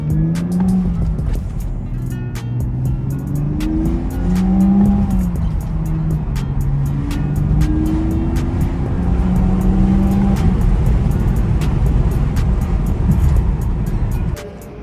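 A BMW E92 coupe driving on the road, engine tone rising and falling through gear changes over steady loud road and tyre noise, heard from inside the car.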